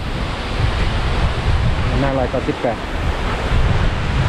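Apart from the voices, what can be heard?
wind blowing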